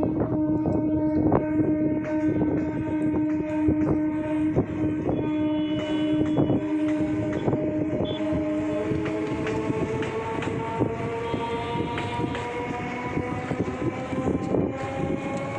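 A train pulls slowly away from the station, wheels clacking in an uneven rhythm under a sustained, drawn-out horn tone, heard fairly close and steady with no talk.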